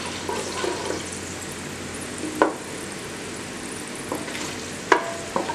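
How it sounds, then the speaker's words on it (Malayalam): Whole cardamom, cinnamon, black pepper and cloves heat in a pan for Sri Lankan yellow rice, a low sizzle under a few distinct spoon scrapes and clinks, close and unvoiced. "ഏലക്കായും പട്ടയും കുരുമുളകും ഗ്രാമ്പും എല്ലാം കൂടി ഒന്ന് ജസ്റ്റ് ഒന്ന് ചൂടാവുക."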